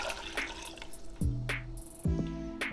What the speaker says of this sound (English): We're gonna go ahead and deglaze our pan with 2 cups of water.